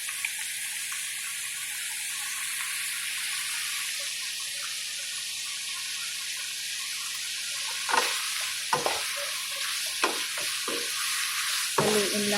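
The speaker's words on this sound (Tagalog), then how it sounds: "Haluin lang para maluto yung karne." Meat fries in a pan for an Ilocano party dish, giving a steady hiss, and toward the end a utensil stirs it with several sharp scraping strokes, all close and without talk.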